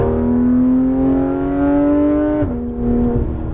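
A Porsche GT3 RS 991 on a racetrack at full throttle, its engine note loud and close, climbing steadily in a strong rising tone, then dipping briefly at a shift before pulling hard again.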